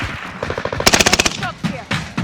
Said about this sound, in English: Shots here.